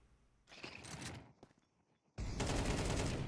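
Rapid gunfire sprayed during a competitive shooter match, bursts of crackling shots broken by short gaps, then a loud sustained volley at the end.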